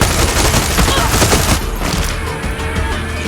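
Shotgun fire in the video game Far Cry 6, a dense, loud barrage of overlapping blasts and booms that thins out midway into a rumbling ambience, close and harsh.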